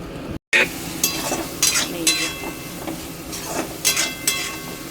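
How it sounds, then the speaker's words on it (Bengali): Onion, ginger, garlic and tomato sauté in hot oil with a continuous sizzle, punctuated by several scraping stirs of a spoon against the pan. "একদম অল্প করে পেঁয়াজ, আদা, রসুন, একটু টমেটো দিয়ে এটাকে এখন ভালো করে কষাবো"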